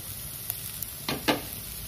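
Chopped green chillies drop into a hot frying pan for oats upma, giving a steady sizzle with two short bursts of crackle as they hit the oil, close and fairly quiet.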